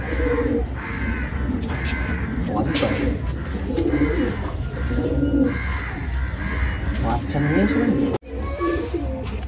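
Madrasi pigeons coo in repeated, rolling, nearby phrases over a steady background, with a brief break near the end.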